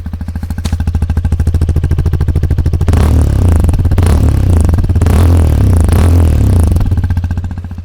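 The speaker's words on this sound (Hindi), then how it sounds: "तो इस तरह से कुछ एग्जॉस्ट नोट है जो कि काफ़ी बढ़िया लगता है" Hero Xpulse 210 motorcycle exhaust, recorded close up, with a loud steady thumping idle that swells into repeated strong revs and falls back, with no talking.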